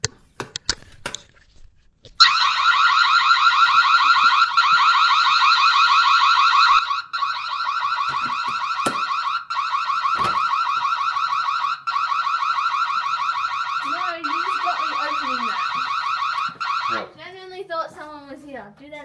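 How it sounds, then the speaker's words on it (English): A Reolink second-generation video doorbell's anti-tamper alarm blares loud and nonstop for about fifteen seconds, a harsh wavering siren close by, with brief knocks before it and chirpy tones trailing after it cuts off. "An anti-tamper alarm. So if someone tries to steal your camera, well, sets off an alarm."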